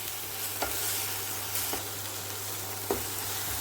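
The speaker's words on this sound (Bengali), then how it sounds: "আদা জিরে বাটাটা দিয়েও বেশ খানিকক্ষণ নাড়াচাড়া করে নেব।" Ginger-cumin paste sizzles steadily in a hot pan for a Bengali doi potol dish, with a few sharp scraping strokes of the spoon as it is stirred, and no talking.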